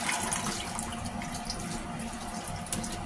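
Tap water runs steadily over fresh strawberries being washed in a kitchen sink for homemade strawberry jam, a continuous close splashing rush that stays even throughout.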